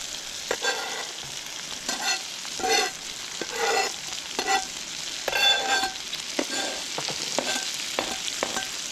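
Poblano pepper and other vegetables sizzle in butter in a pan while cooking succotash, with steady frying hiss broken by repeated scraping stirs of a utensil, close and moderately loud with no talk.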